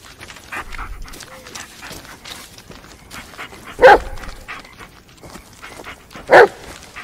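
A dog in the Blair Witch video game pants and sniffs close by, giving two short, sharp barks spaced a few seconds apart amid quiet rustling.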